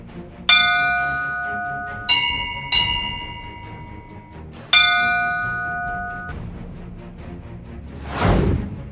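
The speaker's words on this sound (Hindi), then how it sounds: "दुनिया का सबसे बड़ा घंटा।" Large bell on the Chambal riverfront in Kota, Rajasthan, struck several times, each deep clang ringing out and slowly decaying, followed by a brief whooshing sound at the end.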